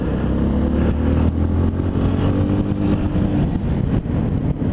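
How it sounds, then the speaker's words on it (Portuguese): Yamaha Teneré 250 motorcycle ridden through city traffic near bus lanes, a loud steady engine drone with wind rush, close and continuous without talk. "De andar de moto."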